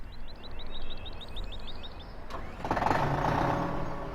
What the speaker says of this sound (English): Let's go ahead and fire this guy up. Ooh, it's got a nice sound to it.